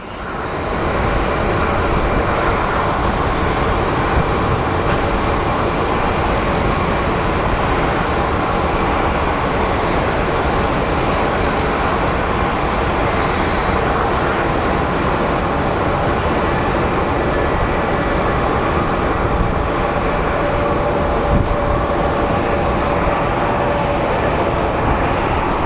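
A Frontier Airlines jet in Flo the Flamingo livery on final approach at Phoenix Sky Harbor, giving a steady, loud broadband jet roar that holds for the whole stretch with no voices over it.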